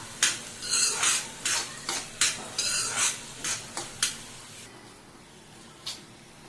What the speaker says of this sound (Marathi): कांदा कच्चा ठेवायचा नाही सोनेरी रंगापर्यंत परतून घ्यायचा